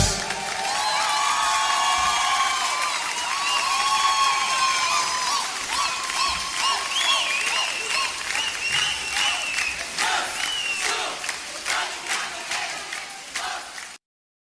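A large live audience cheers, whoops and claps after a stage performance, loud and continuous at first, then thinning to scattered individual claps before cutting off.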